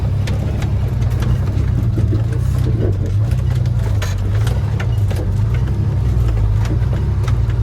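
A vehicle engine rumbles loudly and continuously on a dusty mountain road at the cold, high Baralacha La pass, a deep steady drone with slight shifts in pitch and no talking.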